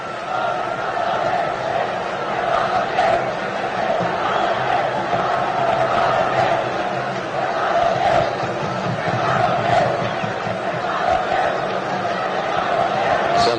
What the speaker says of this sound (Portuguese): E aqui a torcida. Torcida e a sua manifestação.